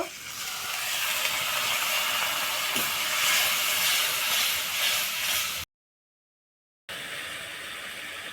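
Water poured into a pan of frying tomatoes for a matar paneer curry sets off a loud, steady steaming hiss that runs continuously, breaks off into a short silence, then resumes just as strongly.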